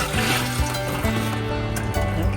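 Cold water runs continuously into an RV hot water tank, a close, steady rushing hiss with faint gurgling and a low intermittent hum underneath.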